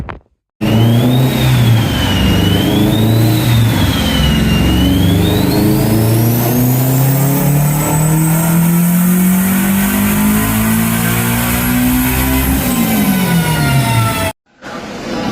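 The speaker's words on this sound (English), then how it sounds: "check out these dyno pulls, the dyno numbers" A turbocharged Acura RSX making over 500 hp revs hard on a dyno, the loud engine note climbing steadily through a long pull with turbo whine, then dropping off before a short silence.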